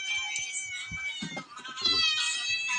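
A pet cat meows repeatedly while eating, its close, high drawn-out calls rising and falling over small chewing and shuffling noises at mealtime in a home kitchen.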